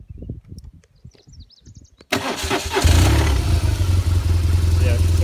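A BMW R1200GS Adventure motorcycle, just after a crash, is cranked and starts after a few seconds of talk and clicking, then settles into a loud, close, steady idle.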